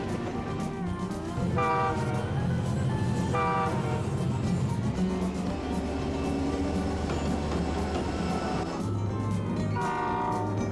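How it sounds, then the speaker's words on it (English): A diesel locomotive rumbles past loudly, its horn sounding in several long blasts over the steady roar of the engine and rolling wheels. "Let's watch some diesel locomotives run."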